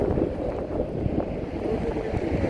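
Gusty wind buffets the microphone at a roadside rest stop, a steady low roar with rumbling swells throughout.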